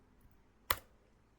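A single sharp keyboard keystroke, a quick click like pressing Ctrl+S to save a file on a computer, stands out alone against a quiet room.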